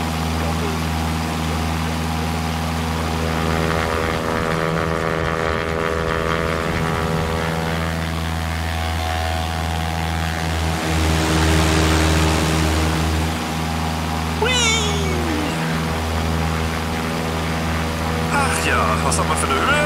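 Propeller aircraft engine droning outside the plane in X-Plane 11, a steady, loud, tonal hum with layered harmonics that runs throughout, with a voice speaking over it at times.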